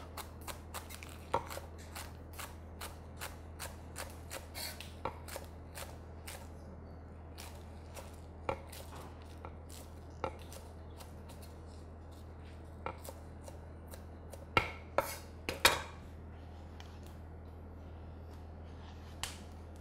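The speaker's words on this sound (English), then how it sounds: "So we're just going to roughly slice this up." A knife roughly slicing onions on a cutting board for onion soup gives irregular, crisp taps and cuts, some spaced out and some in quick bursts, over a steady low hum in a quiet kitchen.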